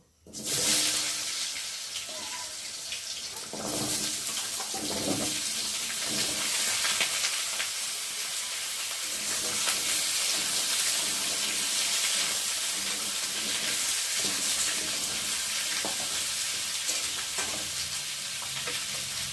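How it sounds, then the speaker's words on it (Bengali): Potatoes and papaya fry in a pan with bay leaf and cumin, a loud continuous hiss and sizzle throughout, with occasional stirring scrapes early on and no talking. "আর এখন আমি আলু আর পেঁপেগুলো দিয়ে ভালো করে ভেজে নেব।"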